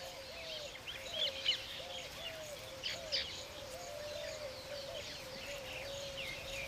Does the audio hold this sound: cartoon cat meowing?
no